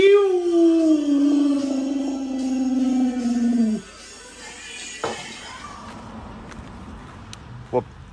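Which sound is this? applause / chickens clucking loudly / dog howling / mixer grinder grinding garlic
dog howling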